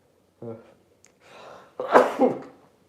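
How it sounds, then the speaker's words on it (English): A short throat sound, then a breathy build-up ending in one loud, close sneeze, with no talking around it. "I'm trying to sneeze."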